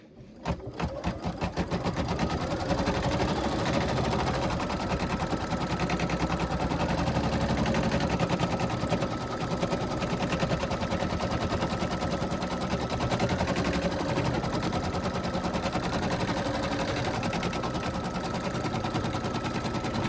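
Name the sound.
sewing machine stitching down a gnome's beard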